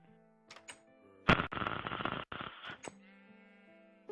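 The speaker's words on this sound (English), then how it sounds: "Stupid sheep, I kill you." Sheep in the Minecraft video game bleat several times, short wavering tonal cries before and after a louder burst of clattering thumps in the middle.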